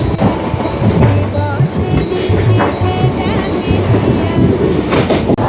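A Howrah to Digha local train runs at speed, with a loud, constant rumble and rhythmic rattling of the carriages, heard from inside alongside faint voices.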